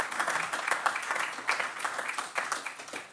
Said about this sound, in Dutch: Hartelijk applaus.